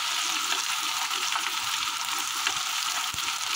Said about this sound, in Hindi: अब मैं डालूंगी इसमें अदरक डालूंगी और साथ में डालूंगी ये सब्ज़ मिर्चें और सुरख मिर्चें